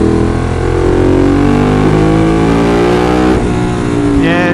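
Ducati 916 motorcycle engine pulling hard from low revs, a loud continuous mechanical roar with steadily climbing pitch, close up and alone with no talking.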